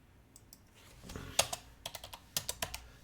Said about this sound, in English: I'm going to type that in there too.